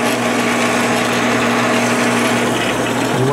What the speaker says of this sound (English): as you're drilling,